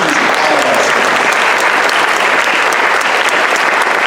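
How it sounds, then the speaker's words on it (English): Audience applause at an Iowa All-State Jazz Concert held indoors: a loud, dense, continuous roar of many hands clapping, steady and unbroken from start to finish. "a big round of applause for the teams of all of our students"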